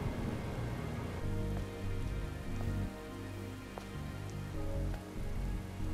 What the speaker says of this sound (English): Wait, rain? This must be Earth's rain.